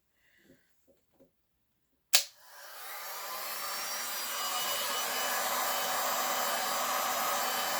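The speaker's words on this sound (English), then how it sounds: "So I'm just going to hit it with the heat gun really quick." Heat gun switched on over a resin art piece with scrapbook paper and glitter, starting with a sharp click after a few faint taps, then a steady loud blowing hiss that keeps rising slightly.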